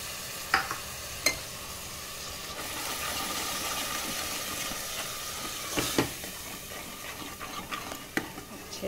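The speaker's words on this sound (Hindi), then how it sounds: "मसाला लगभग पक गया है" Masala spices cook in a pan with a constant soft sizzle and hiss, punctuated by a few sharp clicks and scrapes of stirring.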